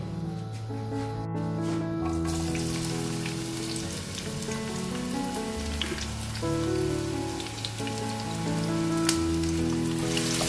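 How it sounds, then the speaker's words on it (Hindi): Onions frying in about half a cup of hot oil in a pan for chicken curry, a dense, steady sizzle and crackle like rain on a surface, close and continuous with faint background music, no talking. "पैन गरम हो गया है, इसमें हमने 1/2 कप के करीब ऑयल डालना है और साथ ही हम इसमें प्याज डाल देंगे"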